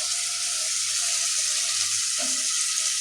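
Tomatoes, onions and vegetables frying in a pan, a loud, continuous close sizzle with a faint hum beneath it.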